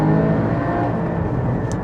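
A Porsche 981 Cayman GT4 is driven on open roads with a steady, droning engine note. The sound is sustained and fairly loud, without a sharp rise or fall in pitch.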